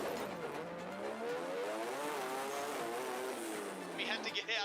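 Mitsubishi Evo drag car, a four-cylinder racer, roars continuously at a drag strip with rising engine harmonics, loud and near, with a crowd and announcer noise mixed in and a brief burst of higher tones near the end.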